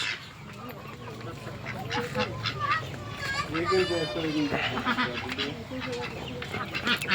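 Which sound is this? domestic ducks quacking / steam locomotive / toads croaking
domestic ducks quacking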